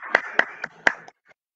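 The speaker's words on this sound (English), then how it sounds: "please clap for Maham" A handful of sparse claps, about five sharp strikes in just over a second, from children in a grade two online class, tapering off into quiet.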